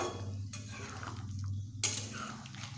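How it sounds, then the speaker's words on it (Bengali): A paneer and vegetable mixture is stirred in a pan, with soft scraping and clinks of a spoon against metal over a low background, no speech. "ঢাকা খুলে আমি আবার একটু ভালো করে এইভাবে সবগুলোকে এইভাবে মিশিয়ে নেড়ে নিচ্ছি"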